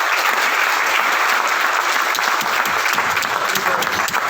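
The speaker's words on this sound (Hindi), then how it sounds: "जोरदार ताली होनी चाहिए" Steady, loud applause from a seminar audience at a business-plan event in Mumbai, dense clapping sustained evenly throughout with no talk over it.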